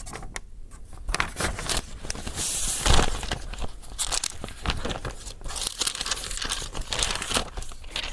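A paper sewing pattern for a coat pocket being handled and crinkled up close, with continuous crisp rustling and crumpling in irregular bursts, close and fairly loud, with no speech.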